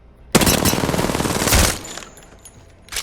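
R99 submachine gun in Apex Legends firing one sustained full-auto burst of rapid shots, loud and close for about a second and a half before stopping abruptly, followed by faint tinkling and a quiet tail.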